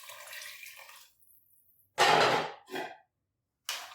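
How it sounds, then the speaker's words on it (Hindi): Water poured from a container into a cooking pot for a black chickpea curry, two short splashing bursts after a quieter opening, with a brief third splash at the end, close and fairly quiet. "1 लीटर हमने इसमें पानी डाल देना है।"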